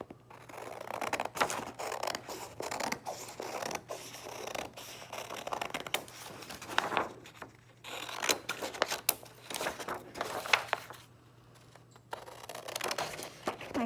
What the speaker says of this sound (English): I can use my scissors and I can cut it out.